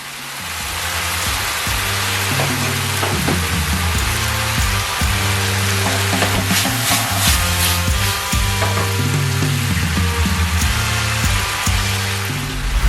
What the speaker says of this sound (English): right here you see me adding about maybe a half cup of the jerk marinade